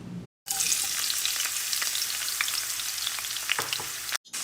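Onions hit hot oil in a lidded pan on high heat, a sudden loud, bright sizzle that holds steady and dense with small crackles and pops for several seconds before cutting off abruptly; no speech.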